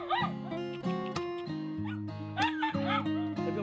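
A rescued dog at an animal rehabilitation center whimpers and yips in short high-pitched whines, several rising and falling cries heard close up with little else around.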